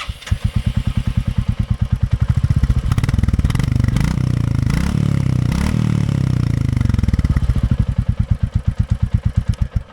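A Royal Enfield Classic 350 motorcycle engine thumps steadily at idle, then revs up into a louder, rougher roar before settling back to the same rhythmic low putter.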